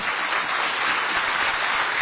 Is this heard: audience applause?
yes